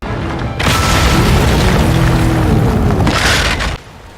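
A colossus in the video game Shadow of the Colossus slamming onto a metal plate on the ground, a loud booming galunk impact with a heavy rumbling tail that lasts several seconds before stopping abruptly.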